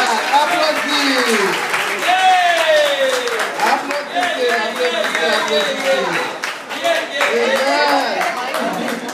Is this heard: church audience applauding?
yes